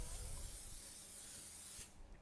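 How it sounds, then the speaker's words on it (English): Cooking spray hisses onto a baking tray in a home kitchen, one steady spray lasting about two seconds before cutting off, close and fairly quiet. "Cooking spray."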